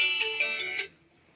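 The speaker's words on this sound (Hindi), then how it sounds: "मुकेश अग्रवाल का फ़ोन आ रहा है किसी" A mobile phone ringtone for an incoming call chimes in a bright, tonal burst for under a second, then cuts off into near silence; heard outdoors near a park.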